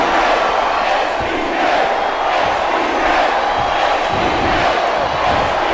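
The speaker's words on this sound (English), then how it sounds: "I love hearing a crowd come alive" A roaring arena crowd in the WWE SmackDown vs Raw 2008 wrestling game, with Shawn Michaels facing Bret Hart, keeps up a steady, dense cheer with rising swells and no clear break throughout.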